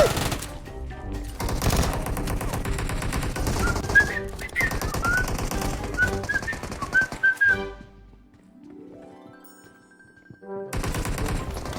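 Rapid bursts of automatic gunfire in a shooter video game, dense rattling volleys with a few whistling tones, fading into a quieter stretch before the firing resumes.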